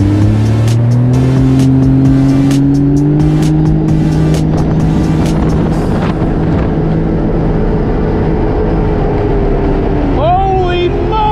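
A 2021 Sea-Doo GTX 300 Limited personal watercraft accelerates hard, its engine drone climbing steadily in pitch under constant rushing wind and water noise, loud and close throughout.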